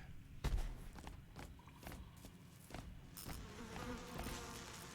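An Amrita insect swarm in a video game, a buzzing drone with scattered thuds and footsteps, moderately faint and steady across several seconds.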